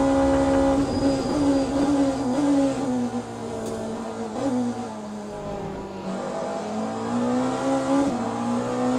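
Race car engine in the Le Mans Ultimate racing game, a continuous droning engine note whose pitch rises and falls as the car accelerates and shifts, steady and fairly loud with no talking.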